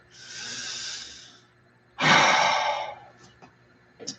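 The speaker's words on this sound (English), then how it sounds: "Please take a nice deep breath." Two long deep breaths, a slow inhale followed by a louder, fuller exhale, close and clear, then a few faint small sounds.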